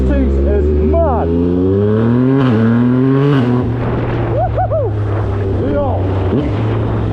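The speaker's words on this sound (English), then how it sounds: "He's got a new exhaust in this thing. It sounds monstrous." A Honda CBR650F motorcycle fitted with a new exhaust roars close by with a deep, constant drone, swelling revs and gear changes, under heavy wind noise and a rider's short shouts.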